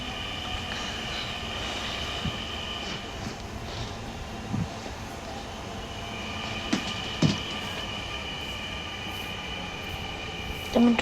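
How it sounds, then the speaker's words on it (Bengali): A metro rail train brakes to a stop, heard as a quiet, steady rolling hum with sustained high brake whines and occasional clunks and squeals. "তো মেট্রো রেল এই যে দেখলে আপনারা থামতে থাকলো।"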